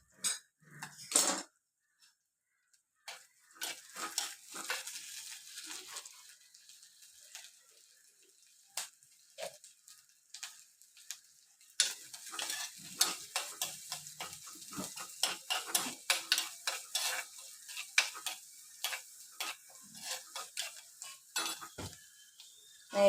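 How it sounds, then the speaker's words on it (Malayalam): Onions and curry leaves frying on low heat in a pan for a Kerala-style king fish curry: a spoon scrapes and clinks against the pan in scattered, irregular strokes over a faint, quiet sizzle, with no one talking. "ഉള്ളിയും കറിവേപ്പിലയും നല്ലപോലെ ഒന്ന് മൂപ്പിച്ചെടുക്കണം"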